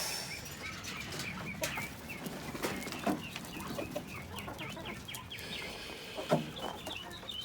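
Turkeys and chickens in a poultry pen cluck and call in scattered bursts over a low farmyard murmur, fairly quiet and close, with no talking.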